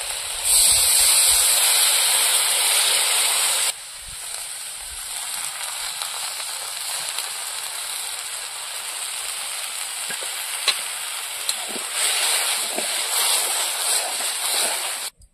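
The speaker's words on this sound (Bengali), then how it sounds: "আগের থেকে গুলে রাখা তেঁতুলের জল দিয়ে দেবো।" Tamarind water hits a pan of simmering shrimp and taro-flower curry, producing a bright steady hiss and sizzle that drops abruptly after a few seconds and then continues as a softer bubbling hiss.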